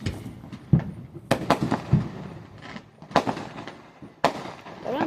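Fourth of July fireworks burst and crackle in a rapid irregular series of loud, sharp bangs, some close and some farther off, with overlapping echoes between the pops.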